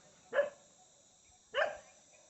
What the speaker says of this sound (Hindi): अबे मेरे पे भौंक रहा है